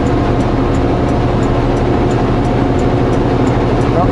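A car engine drones steadily while driving southbound through Quesnel, held back from full throttle, a loud, continuous low rumble with road noise and no break.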